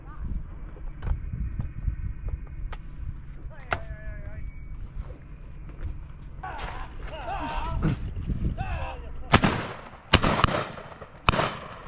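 Shotgun shots at a driven pheasant shoot in Wiltshire, sharp outdoor bangs with a cluster of three loud reports near the end over steady field noise and low voices talking.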